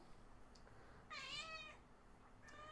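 A cat named Gabby gives two clear meows, the first longer and louder, the second brief and cut off, close and alone against a quiet room hiss.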